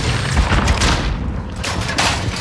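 Grenade blast in Call of Duty: Modern Warfare, a loud broadband boom inside continuous dense gunfire and explosion noise, with a heavy low rumble throughout and no clear separate speech.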